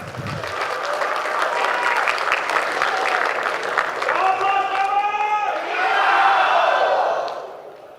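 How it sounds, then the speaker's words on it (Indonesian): A debate audience at a South Sumatra gubernatorial debate applauds loudly and steadily as candidates take their podiums. A dense wash of clapping goes on with voices and tonal music rising over it, then dies away near the end. "Boleh berikan tepuk tangan sebentar?"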